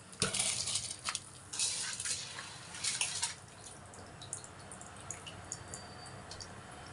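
Soaked rice is poured into water in a few pattering bursts, then quieter bubbling and faint drips.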